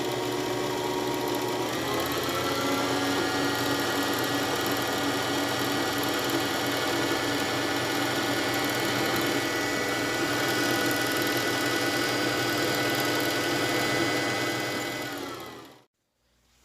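A sewing machine winding its bobbin as a foot pedal is pressed, giving a steady, close motor whir that rises in pitch at the start, holds for about fifteen seconds, then winds down and stops.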